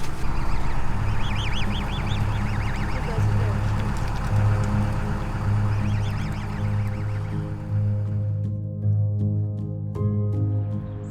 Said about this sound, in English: Just giving all my food to the birds.